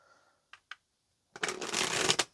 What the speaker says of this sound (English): let's go ahead and get a couple of more shuffles